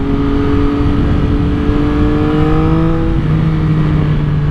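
A 2022 Yamaha MT-09 motorcycle with a tuned ECU accelerating, its engine note droning loud and close, with the pitch climbing and shifting as it pulls harder under wind rush.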